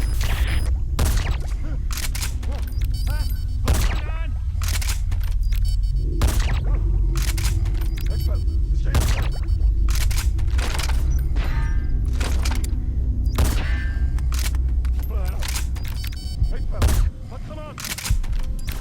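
Cover fire in Metal Gear Solid 5: The Phantom Pain, sustained gunfire of many sharp shots cracking at irregular intervals for nearly twenty seconds over a dense background rumble, with speech mixed in.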